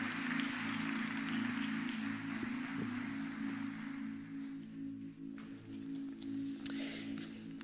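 Church congregation applauding and cheering during a Sunday service, a steady dense wash of clapping that holds for the whole stretch over a low sustained organ or keyboard drone, fading slightly then swelling again toward the end.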